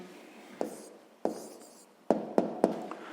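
A pen writes an answer on paper in a quiet room, a few distinct taps and short scratching strokes, close and soft, with no talking.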